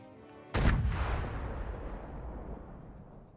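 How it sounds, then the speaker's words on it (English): A single loud ship's cannon shot in the sailing game Sail, a sharp blast that rolls into a long, decaying rumble lasting several seconds, with no talking. "Fire cannon."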